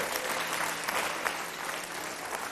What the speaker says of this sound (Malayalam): നല്ലൊരു കയ്യടി കൊടുത്തേ